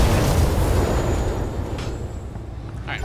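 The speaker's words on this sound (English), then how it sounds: "Firing on target." Mech weapons firing in the Battletech video game, a dense burst of explosive booms and blasts that rumbles loudly and then tapers off over a few seconds.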